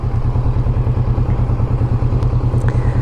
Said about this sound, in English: We'll rev it a little bit.